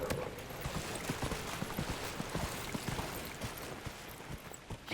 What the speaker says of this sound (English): time to mount my horse